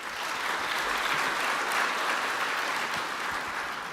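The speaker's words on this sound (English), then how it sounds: "Big round of applause for Andy, please." A conference audience applauds after a lightning talk on Python. A dense, even wash of clapping fills the room at steady volume and fades slightly near the end, with no voices over it.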